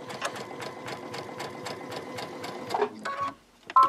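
A sewing machine fitted with a wing needle runs a fast, even hemstitch along the corner of a mitred napkin, close and clear, then stops briefly before a couple of short bursts.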